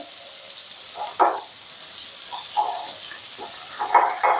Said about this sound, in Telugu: ఇప్పుడు ఆనియన్స్ వేసి ఫ్రై చేసుకుందాం